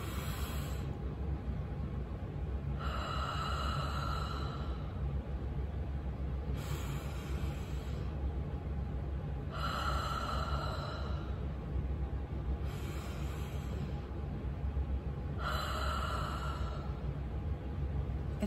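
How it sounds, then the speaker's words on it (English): Slow, deep breathing exercise: a breathy inhale swells, pauses, then releases in a long exhale, repeated about four times in an even rhythm over a steady low background hum, close and fairly quiet with no talking. "we take a deep breath, we're gonna bring it in, we're gonna pause and then exhale out."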